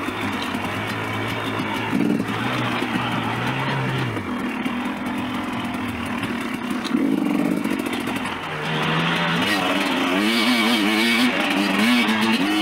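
A 2019 KTM 250xc two-stroke dirt bike ridden on a trail, its raspy buzzing engine close and loud, pitch dipping and climbing through throttle changes, the revs rising sharply in the second half.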